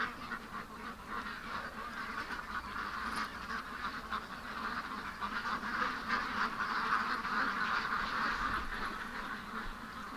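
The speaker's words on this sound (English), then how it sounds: "Are you going to watch the ducks?" Ducks quacking in a steady, dense chorus outdoors on a freezing day, a flock heard continuously at moderate distance with no talk over it.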